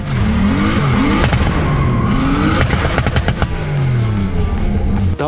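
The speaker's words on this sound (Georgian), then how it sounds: "მანქანამ გაასხა." BMW E39 sedan accelerating hard: a loud, continuous engine roar with rising and falling revs and gear-change sweeps, heard close and steady throughout with no speech.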